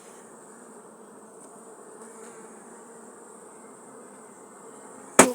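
Carniolan honey bees drone steadily at the hive, a close, even buzzing hum that carries with no voices and ends in one sharp knock.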